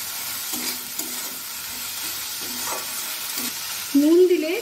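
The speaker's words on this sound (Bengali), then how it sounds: "এখন টমেটো দিয়ে দেব।" Chopped tomatoes tipped into onions frying in a pan, with a steady sizzle and soft scraping stirs throughout, swelling into a louder hiss near the end.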